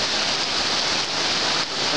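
Floodwater rushes down Aricanduva Avenue in São Paulo during a 2016 flood, a loud, dense, steady roar of churning water with no speech over it.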